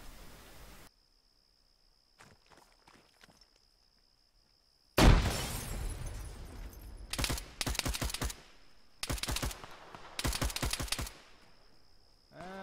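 Frag grenade in the Arma 3 video game: a sudden loud blast after a quiet stretch, followed by several bursts of gunfire-like cracks at intervals, with faint talk in the lulls.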